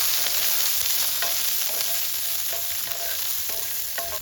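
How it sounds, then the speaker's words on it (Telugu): Green chillies fry in hot oil for a chutney, a loud continuous close sizzle with occasional spatters and pops throughout, and no one speaks. "ముందైతే పచ్చిమిరపకాయలు వేయించుకుందాం"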